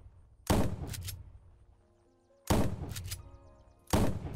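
A shotgun in the video game Unturned fires three loud, close blasts about two seconds apart. Each blast ends in a short rattling tail that fades before the next one.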